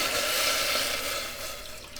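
Four cups of water pour steadily into a cooking pot for polenta, giving a continuous, close splashing rush that eases slightly near the end.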